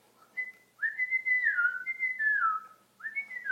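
A person whistles an imitation of great tit calls, a series of clear sliding tonal phrases with short gaps, close and alone.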